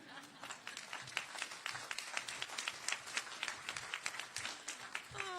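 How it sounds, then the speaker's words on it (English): Audience applause at a first responders honors and awards ceremony at the Houston Livestock Show and Rodeo, a dense, steady crowd clapping held at a moderate distance, with individual claps standing out over several seconds. "Please give Robert Howden another big round of applause"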